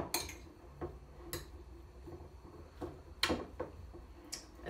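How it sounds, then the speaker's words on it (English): Sweetcorn, salt and salsa ingredients stirred in a bowl, heard as a handful of faint, separate clinks and taps of a utensil against the dish in a quiet kitchen. "Mix it all together."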